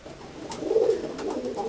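A pigeon held in the hand gives a low, rolling coo close to the microphone, one soft swelling call followed by quieter murmurs.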